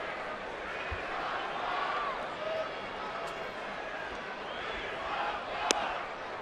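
A baseball stadium crowd goes wild, a continuous roar of cheering and yelling with scattered shouts rising out of the mass, steady and distant over several seconds, with a voice talking over it.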